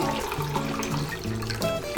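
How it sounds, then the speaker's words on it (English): Tap water runs into a measuring cup for vegan bouillon, a close, steady gush whose tone rises as the cup fills, ending in a short splash. "I'm gonna fill up 2 cups of water."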